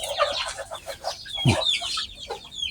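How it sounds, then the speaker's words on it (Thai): Chickens clucking close by in a busy run of short calls, with a rooster-like cry standing out midway. "ไก่แม่กำลังฟัก"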